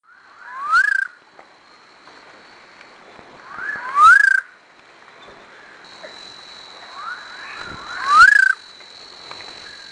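Night frog (Nyctibatrachus) from the Western Ghats gives three short rising chirping calls spaced evenly a few seconds apart, fairly close and clear over a quiet night background with a faint steady insect hum.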